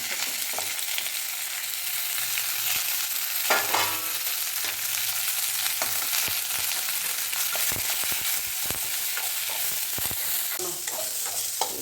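Onion, coconut and tomato sauté together in gingelly oil for a lentil chutney, with a constant close sizzle broken by frequent sharp stirring clicks and scrapes of a spoon against the pan.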